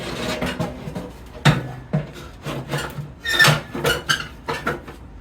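A heavy metal grill plate is set back into a Pit Boss Lexington 500 Onyx pellet smoker, producing a series of scraping rubs, clanks and metallic knocks in irregular bursts, close and fairly loud.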